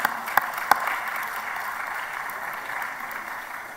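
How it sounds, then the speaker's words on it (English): A synagogue congregation gives a round of applause for a children's choir at a Shabbat service, a soft, fairly distant wash of clapping after a couple of sharper claps at the start. "Give you a round of applause."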